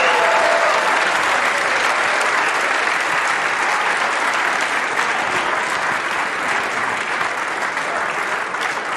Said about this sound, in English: a round of applause, please, for two of the greats